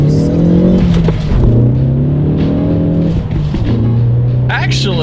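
A 2018 Ford Focus ST under hard acceleration from a standstill to 60 mph, its engine note climbing steadily in pitch, dropping briefly at gear changes, then rising again. The sound is loud, close and continuous.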